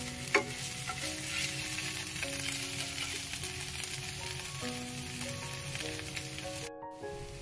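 Ginger-garlic paste fries and is stirred in a pan while cooking a Bengali fish curry, a dense, steady sizzle close by with scraping stirring strokes throughout, and no voices.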